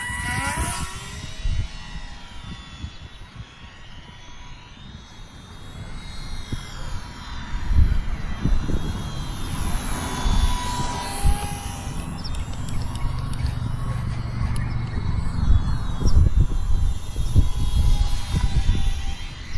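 A ParkZone Ultra Micro Spitfire Mk IX radio-controlled model plane flies over a field, its small electric motor a steady, moderately loud whine that swells and fades as it passes, with outdoor wind rumble underneath.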